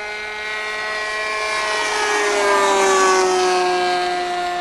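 A Robbe Charter RC model helicopter runs at full throttle, its loud, sustained whine of harmonic rotor and engine tones rising and bending in pitch as it passes fairly close.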